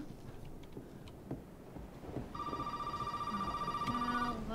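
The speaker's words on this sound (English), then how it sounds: "Is that the phone?" A telephone rings in the horror video game Resident Evil 7. After quiet, creaky ambience, a steady electronic ring begins about halfway through and repeats in a fast, warbling pulse at close range.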